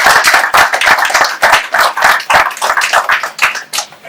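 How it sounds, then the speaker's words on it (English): Applause at the close of a farm cost-share program talk: a small audience claps in distinct, uneven bursts of individual hand claps, close and fairly loud, with no voices over it. "let's give a round of applause"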